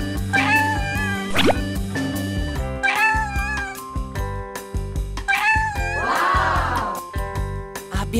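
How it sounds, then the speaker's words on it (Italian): Kittens meowing in high, wavering cries in several bursts over a busy musical, cartoon-like backdrop with boings and other effects. The meows are prominent and close. "Abbiamo trovato tutti i micetti."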